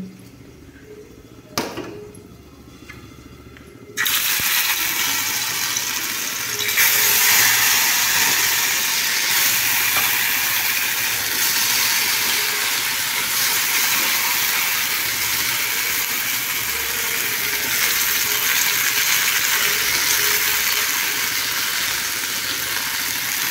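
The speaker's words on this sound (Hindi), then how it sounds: "देखिए मसाला फ्राई होना स्टार्ट हो चुका है" Potatoes and masala for a bhindi aloo dish fry in a pan with a sudden strong hiss after a quiet start and a few clinks, settling into a steady loud sizzle.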